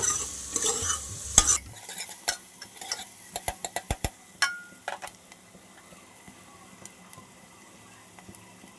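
Onions sautéing in a pan, a brief burst of sizzle followed by a run of sharp spatula clicks and taps against the pan, then a quieter low fry with scattered scrapes, no talking.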